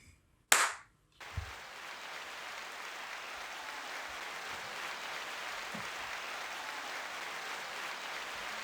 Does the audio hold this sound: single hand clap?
yes